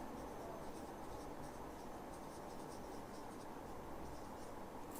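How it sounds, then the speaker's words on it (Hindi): Writing on a board or paper during a chemistry lesson, heard as faint rapid scratching strokes over a steady hiss of background noise, with no voice in this stretch. "नीचे लिख देता हूं।"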